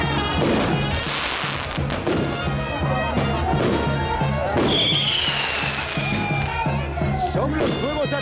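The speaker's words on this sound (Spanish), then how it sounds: "Son los fuegos artificiales de la linda Torre de Lampa." Fireworks at the Torre de Lampa festival in Lampa, Peru, popping and thudding repeatedly through a steady loud din of crowd noise and music, with a voice speaking over the bursts.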